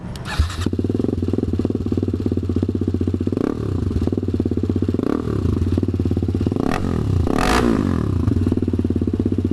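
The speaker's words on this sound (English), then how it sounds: "Oh my god, this exhaust is loud." A loud TVS Apache RR 310 motorcycle with a straight-pipe Akrapovic full-system exhaust idles roughly and blips its throttle several times, each rev rising sharply then dropping back, close up and continuous.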